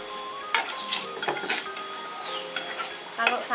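A spoon scrapes and clinks against a cooking pan as plant-based food is stirred, with irregular metallic knocks and a soft sizzle in the background, close and fairly clear.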